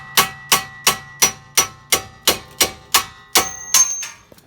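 A hammer strikes a strut part on a 2014 Dodge Grand Caravan during strut and brake pad replacement, about eleven sharp metallic raps at a steady, roughly one-per-third-second pace, close and ringing, then a few lighter clinks trail off.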